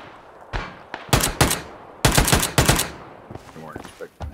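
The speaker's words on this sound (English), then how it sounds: "Covering fire." Gunfire in the video game PUBG, several rapid automatic bursts and single sharp shots in a short exchange, loud and close, with a voice briefly speaking at the end.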